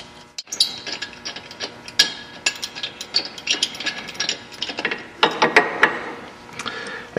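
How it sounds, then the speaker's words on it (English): A hand ratchet loosens a top bolt on the front stabilizer of a Harley with a Fuel Moto 107 big bore, giving close, uneven bursts of clicking, metallic clanks and tool knocks, alone without speech. "we'll loosen up this top bolt over here"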